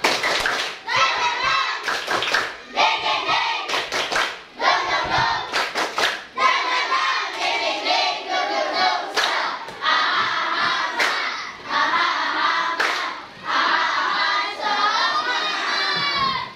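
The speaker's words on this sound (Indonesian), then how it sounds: "Tepuk semangat." Schoolchildren in an Indonesian physical education class perform a rhythmic 'tepuk semangat' clapping chant, loud group shouting interleaved with sharp bursts of synchronized claps in a patterned beat, close and energetic throughout.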